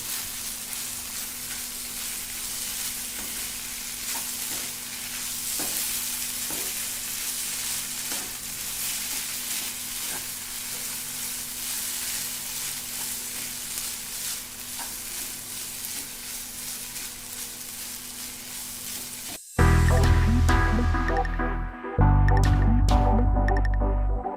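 Maggi noodles fry in a pan and are stirred. A continuous close sizzle carries soft scraping strokes, and near the end it turns louder with heavier utensil clatter.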